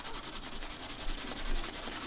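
A pencil point being chiseled on a sanding surface, with a steady, continuous scratchy rasp of graphite and wood rubbing back and forth, close and fairly quiet, with no talking.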